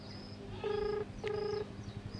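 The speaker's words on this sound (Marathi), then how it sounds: "नानाला फोन लावलाय." Telephone keypad dialing tones during a call placed by a motorcycle rider on a group ride, two short steady beeps in quick succession over low background hum.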